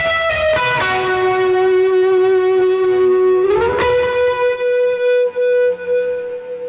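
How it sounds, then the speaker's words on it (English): Electric guitar hook from a song played with full effects, a heavily processed sustained lead with distortion and echo, two sliding note changes and a long ringing tail, solo with no talking. "it's gonna end on the same hook that was featured earlier, but just with all the effects on"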